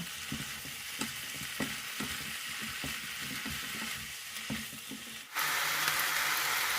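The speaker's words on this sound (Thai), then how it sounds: "ก็ผัดคลุกเคล้าให้เข้ากันค่ะ" Instant noodles and napa cabbage are stir-fried in a pan with a steady close sizzle and a regular scrape of the spatula. Near the end the frying swells into a louder, brighter hiss.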